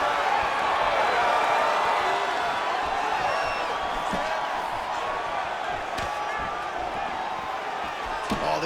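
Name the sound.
crowd cheering in video game UFC 5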